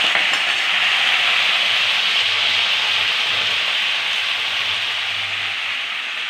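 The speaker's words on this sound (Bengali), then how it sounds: "তেলের মধ্যে কাঁঠালগুলো ভেজে নিচ্ছি।" Jackfruit pieces frying in hot oil seasoned with five-spice give a steady, close sizzle with soft stirring scrapes that run evenly throughout, with no voices.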